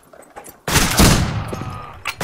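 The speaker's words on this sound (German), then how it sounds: "Ja, die Schrotflinte." A single loud shotgun blast in the western shooter game Fistful of Frags, sharp and close with a long reverberant tail fading away, after faint scattered noises and before a short burst at the end.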